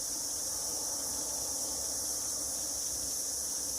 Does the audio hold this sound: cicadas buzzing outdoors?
yes